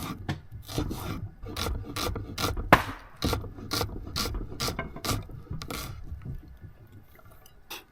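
Repeated rasping, scraping strokes on wood, roughly rhythmic and close by, like sawing or filing timber for a campfire outdoors, with occasional knocks and no talking.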